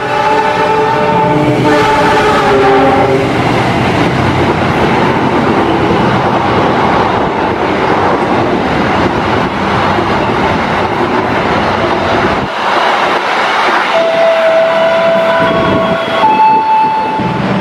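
The Taksaka passenger train rumbles steadily past at close range on the line near Jatibarang, Indonesia, a horn sounding at the start and again near the end over continuous rolling noise.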